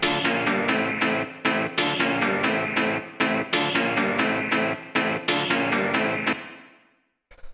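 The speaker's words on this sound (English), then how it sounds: "After that, we have the stab, which is 2 layers, and it sounds like this." A two-layer synth stab from a jungle rave techno track plays in a punchy, rhythmic pattern of bright, chordal hits with short gaps, repeating for several bars before ringing out into a fading tail and silence.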